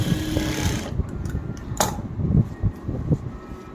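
A sewing machine runs steadily while stitching a double line along a trouser hem, giving a continuous close whirring hum broken by a few soft mechanical clicks.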